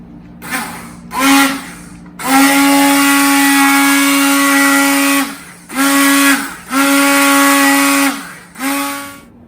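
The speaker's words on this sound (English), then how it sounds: "Now if you have a hand mixie, take your hand mixie." Hand blender pureeing cooked beetroot and vegetables, loud close whirring in several bursts of varying length, the motor pitch steady with brief pauses and restarts between runs.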